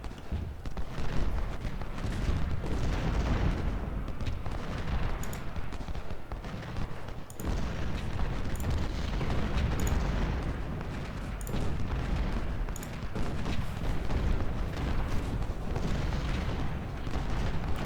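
Cannon and artillery fire in the video game Ultimate General Civil War at the Shiloh battle, a dense continuous rumble of booms and blasts with sharper cracks now and then, loud throughout.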